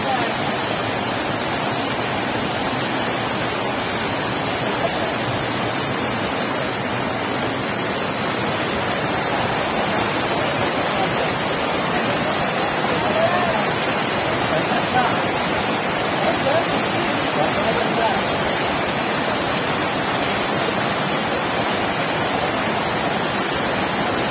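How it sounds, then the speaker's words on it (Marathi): A small waterfall in Konkan countryside, heard as a steady, loud, dense rush of falling water that stays constant throughout with no pauses. "अजून एक छोटासा वॉटरफॉल आहे, मस्त आहे हा"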